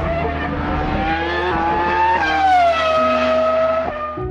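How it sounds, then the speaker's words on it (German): A Formula 1 V10 race car engine screams at high revs, its pitch climbing and then dropping as it shifts, loud and close with no voices. "der Sound der Motoren, der V10 Motoren, einfach immer noch Gänsehaut auslöst"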